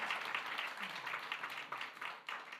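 A church congregation at a Sunday morning service applauding together, producing steady, dense clapping that carries through the room at moderate distance for the whole stretch.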